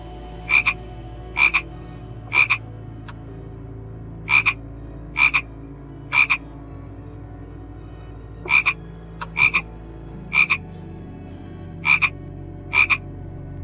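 A frog croaks repeatedly, about a dozen sharp, loud calls at uneven intervals, some in quick pairs. A steady low background hum runs under the calls.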